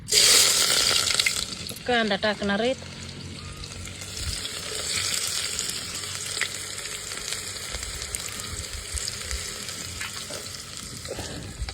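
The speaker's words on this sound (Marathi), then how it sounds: "आणि आता ना त्याच्यात आपण कांदा टाकणार आहेत." Onion dropped into a small amount of hot oil, frying with a steady close sizzle and a brief clattering burst near the start, as a home cook prepares a vegetable dish.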